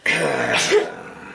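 A single sharp sneeze bursts out close to the microphone, with a brief throaty catch after it.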